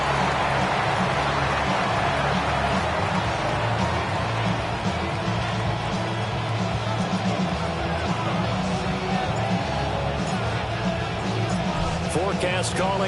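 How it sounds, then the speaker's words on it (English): Steady rain hiss falls across an American football field in an EA Sports NFL game, Patriots versus Dolphins, continuous and broadband for the whole stretch with crowd murmur and a commentator's voice layered over it. "The rain set to continue as we are underway in the second half."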